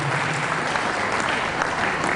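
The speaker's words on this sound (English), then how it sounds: "Please clap for him." Audience applause at an engineering society's founding fathers day lecture, a dense, steady clapping from a crowd filling the room throughout.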